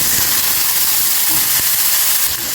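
Brinjal pieces dropped into hot oil, an intense, loud, continuous hissing sizzle filling the whole moment, close up and without pause.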